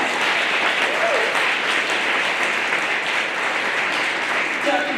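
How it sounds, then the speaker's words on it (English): An audience at a community Martin Luther King celebration applauds the chancellor, a dense, steady wash of clapping that lasts throughout and fills the hall. "Let's give our chancellor a round of applause."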